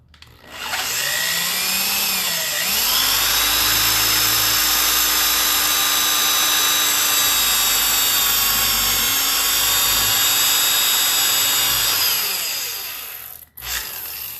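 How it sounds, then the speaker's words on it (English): A power drill bores a hole in wood for a distressed candle holder, a loud sustained whine that spins up, holds steady for about ten seconds, then winds down and cuts off. "So I've got my spots marked where I need to drill my hole. Got my drill."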